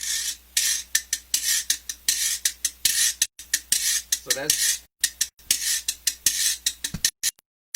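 A scraper instrument rasps out a steady Latin rhythm: quick, evenly spaced scratchy strokes, close and fairly loud, stopping briefly near the end.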